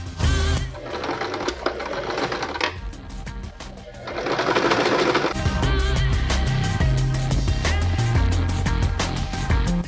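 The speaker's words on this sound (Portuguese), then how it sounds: "Abre aqui e costura aqui, fazendo a quina." A sewing machine stitches the corner of a square neckline in two close, rapid whirring bursts. A voice talks briefly in between.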